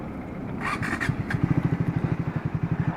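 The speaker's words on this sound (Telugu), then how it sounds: "ఇప్పుడు ఇంజన్ స్టాలింగ్ అయింది" A Triumph Speed 400 single-cylinder 400 cc motorcycle, just stalled with the clutch held, settles into a close, steady low thumping pulse after a second of rougher mechanical noise.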